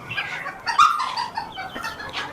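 Chickens at a fancy chicken farm clucking in short, overlapping bursts, fairly close and loud, with one sharper squawk near the start amid farmyard noise.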